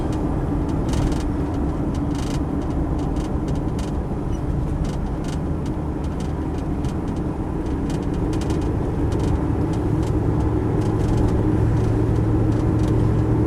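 Constant engine drone and road rumble from inside a moving Land Rover Defender 90 50th Anniversary, steady and fairly loud, with small rattles and clicks.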